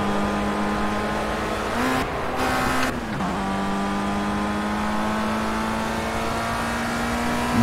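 Steady droning race car engine in the racing game Project Cars, a loud sustained tone holding pitch with a brief dip and shift around the third second, then a continuous even whine, no talk.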